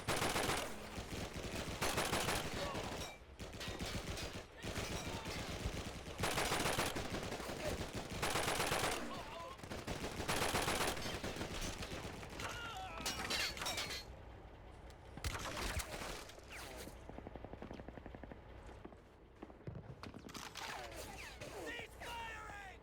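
Dense bursts of rapid automatic gunfire and single shots from the World War II shooter Call of Duty 2: Big Red One, set in Brooklyn, loud and nearly continuous with brief gaps, mixed with battlefield shouting and voices.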